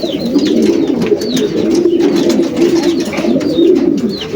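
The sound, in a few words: young racing pigeons cooing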